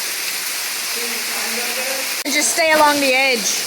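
A 93-foot underground waterfall inside a Tennessee cave roars as steady, loud broadband noise through the whole clip, with people talking over it.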